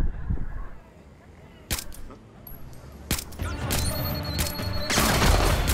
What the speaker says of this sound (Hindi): क्या गोली चला रहा हूँ मैं,